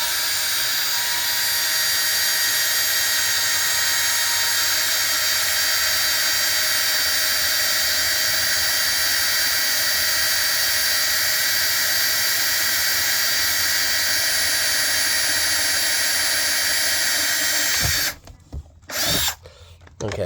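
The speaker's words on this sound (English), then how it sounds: "So I pick an outer edge. So let's say right here, and drill through it." Steady, loud, continuous whine of a power drill boring through a billet door handle for a Land Cruiser, running unbroken for about eighteen seconds before stopping abruptly with a few short stutters.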